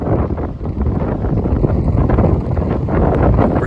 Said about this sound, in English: the winds are already rocking, gusts to 50 miles an hour on the coast, and it sounds like a blizzard already.